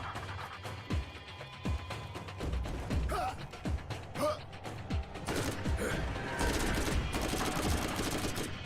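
Gunfire in the Borderlands 1 video game, scattered shots and bursts running through a dense, busy game soundscape with mechanical clatter, loud and steady throughout.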